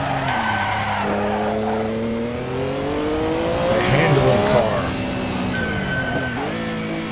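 A Porsche 962C short-tail race car in a racing video game roars steadily with engine pitch climbing and dropping through gear changes and tire squeal, loud and continuous.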